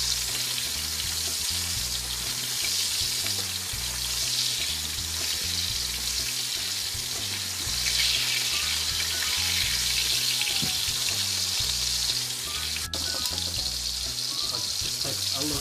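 Steak searing in a hot pan gives a steady, dense sizzle that runs unbroken throughout, with a brief sharp click near the end.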